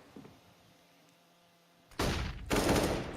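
A CS:GO headshot on Inferno: after near silence, two loud, sharp bursts of gunfire arrive close together near the end.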